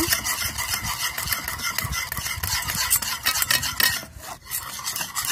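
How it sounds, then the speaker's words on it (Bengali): Steady rubbing and squishing as chips dough made with flour is kneaded by hand with food colouring, a close, continuous rasping texture with no talking. "এই যে দেখুন ফুড কালার দিয়ে এইভাবে মাখিয়ে নেব।"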